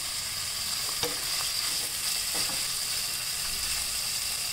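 Vegetables sizzle steadily in a pan for matka biryani while a spoon stirs through them, giving a loud continuous fry with a few soft scraping strokes and no voices.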